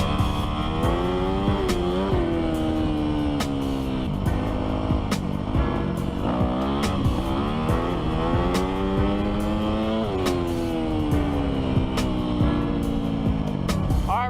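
A Yamaha YZ250F dirt bike accelerates hard through second, third and fourth gears, its loud high-revving four-stroke engine rising in pitch repeatedly, with sharp drops at each upshift over about fourteen seconds.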